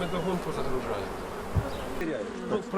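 Honey bees in a Ukrainian apiary give a steady, close insect buzz that runs through the whole moment, with a faint voice-like murmur underneath and a brief low thump near the middle.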